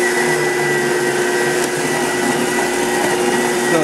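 A Blendtec blender runs inside a sound enclosure box, giving a steady loud motor whir with a constant hum and no pauses or talk.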